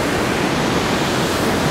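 Sea waves break on Damlataş beach in Alanya, Turkey, in winter, making a continuous dense roar of surf that stays loud and steady without pauses.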